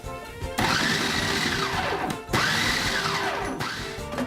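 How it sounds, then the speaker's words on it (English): A food processor pulses a coarse, crumbly lemon bar crust mixture. The motor whirs loudly in two close bursts with a short pause between them, and the pitch rises and falls with each pulse. No one speaks. "we'll just put this lid on, and we're just going to pulse this until it's coarse"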